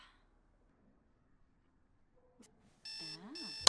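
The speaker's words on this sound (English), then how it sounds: "Okay, alarm clock is off." An alarm clock in The Sims 4 starts ringing after a near-silent stretch, a sustained electronic warble that sweeps up and down and grows loud, preceded by a couple of brief game clicks.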